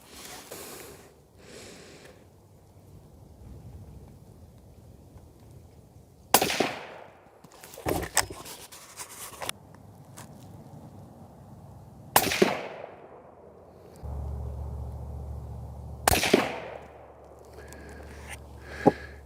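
Rifle firing Remington 69 grain ammunition at a range, four sharp loud shots spaced several seconds apart, each followed by a short ringing decay, with faint handling noise and breathing between shots.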